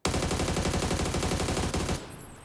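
Rapid, continuous automatic gunfire in PUBG, loud and close, rattling for about two seconds before abruptly dropping away.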